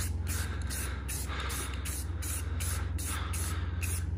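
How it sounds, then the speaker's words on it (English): Spray paint being applied to Toyota FJ Cruiser control arms, a steady close hiss broken into short rhythmic bursts as the nozzle is pressed and released, loud throughout with no talking. "just kinda like start spraying here and then stop, but don't start spraying in the middle anywhere"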